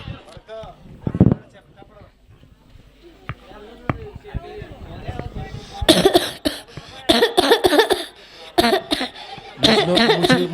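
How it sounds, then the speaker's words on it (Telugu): An old man coughs in a few harsh bursts at a Christmas celebration, followed by louder mixed voices and bustle, with people talking throughout. "ముసలోనికి దగ్గులేసింది"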